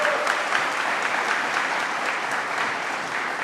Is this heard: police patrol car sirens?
no